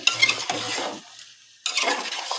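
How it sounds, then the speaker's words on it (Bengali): Chicken and potatoes sizzle and are stirred in spice paste in a pan, with scraping strokes in two bursts broken by a short quiet gap, heard up close. "এখানে আমি দিয়ে দিচ্ছি চিকেন আর আলু দুটাই একসাথে দিয়ে দিচ্ছি। তো এটাকে আমি ভালো করে কষিয়ে নিচ্ছি।"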